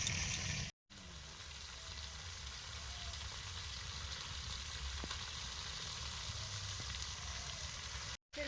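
Fish heads frying in oil on an outdoor clay stove make a steady, moderate sizzle that holds for several seconds, close by, with brief gaps of silence at either end.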